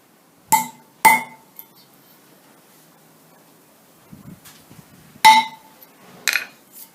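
Gentle hammer taps seating parts on a centre lathe, a pair of sharp metallic clinks, then a pause with faint handling, then two more ringing taps, close and clear in a quiet workshop.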